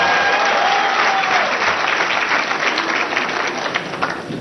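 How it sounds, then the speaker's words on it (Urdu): A studio audience on a Pakistani TV talk show breaks into sustained, dense applause that fills the whole stretch, loud and close, with a faint murmur of the crowd underneath. "اگر سوال اچھا ہو تو اس کی بھی تالیاں بجایا کریں"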